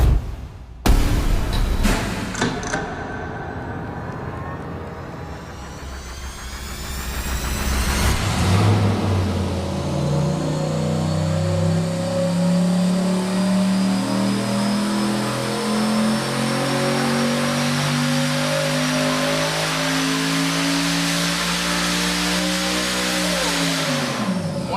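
A built turbocharged engine with upgraded cam, heads and intake runs on a dyno, opening with sharp blips, then climbing in one long, loud, steady rev sweep that holds and cuts off abruptly near the end, with no talk.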